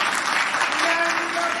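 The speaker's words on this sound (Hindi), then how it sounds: "हुन सिंध वारनि जे लाइ जोर सां ताली वॼायो।" Loud, dense applause from an audience at a Sindhi devotional satsang, clapping steadily and continuously without a break.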